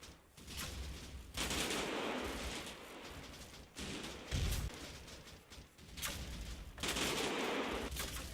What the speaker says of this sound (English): small arms and MG fire are starting to take effect